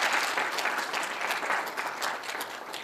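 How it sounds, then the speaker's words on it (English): An audience at an inauguration ceremony applauds the police honor guard, with steady, dense clapping that holds at an even level through the whole moment. "How about a round of applause for those folks?"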